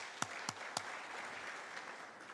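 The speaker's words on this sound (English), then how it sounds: "Can we just give her another round of applause?" Applause at a library and information science symposium, a steady crowd clapping heard at moderate distance, opened by three sharp, louder nearby claps before settling into an even patter.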